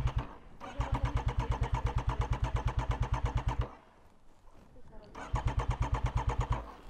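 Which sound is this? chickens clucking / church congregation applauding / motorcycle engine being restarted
motorcycle engine being restarted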